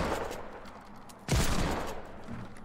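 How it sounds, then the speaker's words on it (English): Gunfire in the video game Fortnite, a quick burst of rapid shots with one loud close blast in the middle, set against a steady game-noise background and heard without talking. "I shot him down, I shot him down, I shot him down"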